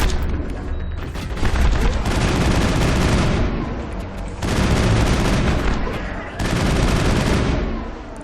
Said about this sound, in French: Je tire dans le tas, j'avoue, je vois pas trop sur quoi je tire.